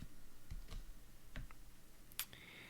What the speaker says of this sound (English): let's click on rent, and then let's type in